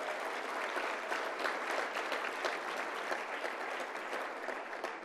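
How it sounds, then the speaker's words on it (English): A crowd at a Junior Achievement business hall of fame induction claps for students, a full, even wash of many hands sustained throughout at moderate distance. "Let's give them a round of applause."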